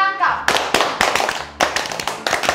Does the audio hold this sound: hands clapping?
yes